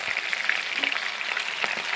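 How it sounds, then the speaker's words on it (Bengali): Pangas fish pieces frying in oil in a pan, giving a steady close hiss and sizzle with small crackling pops throughout and no talking. "মাছগুলো লাল লাল করে ভাজা হয়ে গেছে"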